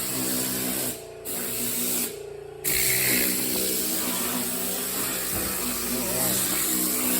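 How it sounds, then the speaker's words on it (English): A pressure washer sprays water over an Audi A5 while cleaning the engine. The hiss is close and loud and runs nearly nonstop, broken by two short pauses near the start. "we're gonna rinse everything off the vehicle so we start clean before we start washing it"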